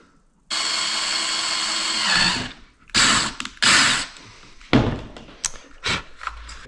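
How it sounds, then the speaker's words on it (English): A power drill whines steadily for a couple of seconds, followed by several shorter bursts and clunks as the bit works slowly through a Toyota Tacoma's plastic dashboard. "I drilled that slow, did not crack the plastic, and I reversed the drill bit."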